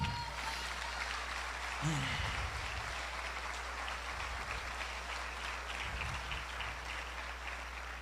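A church congregation applauding during a sermon, a steady, diffuse roar of clapping held for about eight seconds under a low hum, with a voice briefly heard.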